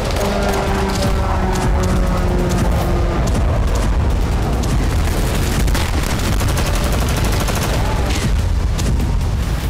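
Loud, dense war-zone gunfire and shelling on the front between Russia and Ukraine, with rapid bursts and booming hits over a constant roar and some voices in the mix.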